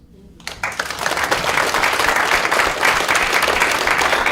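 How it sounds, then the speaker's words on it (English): After a panel discussion on sports accessibility, an audience breaks into applause, starting from quiet and quickly building into a full, steady round of clapping. "Just another round of applause."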